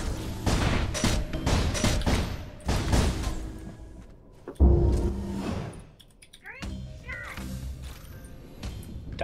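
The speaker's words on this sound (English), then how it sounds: "Oh, a shot." Bursts of gunfire in the team shooter Midair during a match, several loud sharp volleys and blasts in quick sequence, with players talking over voice chat.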